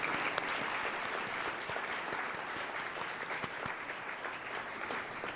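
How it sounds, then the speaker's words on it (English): An audience at a Columbus Metropolitan Club panel on snob zoning and redlining applauds the panelists and host with a steady, even wash of clapping that holds at a moderate level for several seconds. "Let's give a round of applause."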